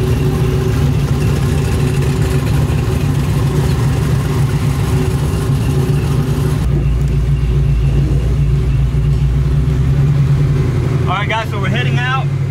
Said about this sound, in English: You can see behind me right now the cars are leaving.